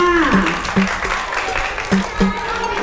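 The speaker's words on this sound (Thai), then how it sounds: "ขอเสียงปรบมือให้กับน้องๆหน่อยค่ะ" Parents and guests applaud a kindergarten year-three performance, with brisk clapping under a voice speaking over it and a few sharper, close-by claps standing out.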